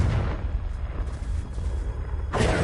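A fire spell blast goes off in a Hogwarts Legacy game battle, a loud booming burst that rolls on through the clip, with a second sharp eruption near the end.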